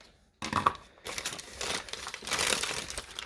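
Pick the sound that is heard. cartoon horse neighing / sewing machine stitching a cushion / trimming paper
trimming paper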